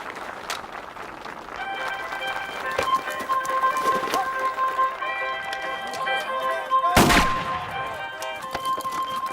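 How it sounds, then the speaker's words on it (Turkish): Sharp, loud gunshots crack out during a trick-shooting show in a Western comedy scene, among music tones and background noise, with one especially strong blast near the end. "Şimdi de Susan Van Dyke'tan atış gösterisi"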